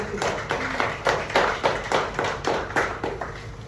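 A meeting audience claps together in a brief burst of applause, sharp claps in a quick uneven rhythm, fairly close and filling the whole stretch without talk.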